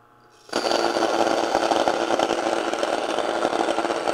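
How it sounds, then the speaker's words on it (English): Komo electric grain mill grinding a quarter cup of wheat into its finest flour: a loud, steady, buzzing mechanical roar that starts abruptly after a moment of quiet and runs on without a break. "You can tell the noise difference between the Komo and either the family grain mill or the Wondermill"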